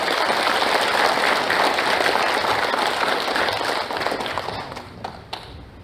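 Warm applause from the audience at a Korean memorial association's founding ceremony, a thick sustained roar of clapping that thins and trails off into scattered claps near the end.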